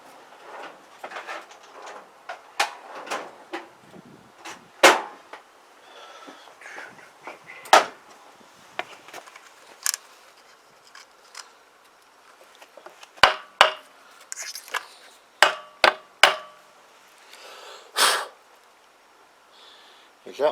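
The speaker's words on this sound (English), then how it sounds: "We get a soft hammer." Soft hammer tapping on parts of a Kymco Agility 125 scooter during a variator job, a string of sharp knocks spaced unevenly over about twenty seconds, close up, with some quiet talk between the strikes.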